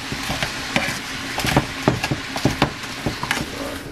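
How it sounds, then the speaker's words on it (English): Vegetables sauté in a pan with a lively sizzle, while a utensil stirs and scrapes in quick, irregular knocks and clatters close by. "once that sweat down, we gonna saute it some more"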